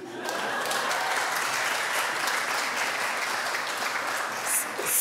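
Sustained audience applause at a forum event, dense and steady from start to finish, a broad wash of many hands clapping together at fairly close range.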